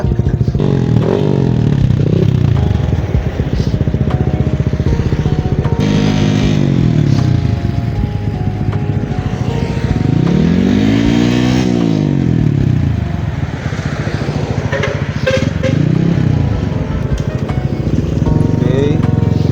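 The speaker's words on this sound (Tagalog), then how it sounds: "So yung ginagawa dun sa motor ngayon is tune siya." Tuned 183cc motorcycle engine with a 63mm bore revving loudly and repeatedly up and down close by, with people talking underneath.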